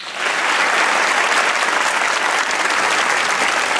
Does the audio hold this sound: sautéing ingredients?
no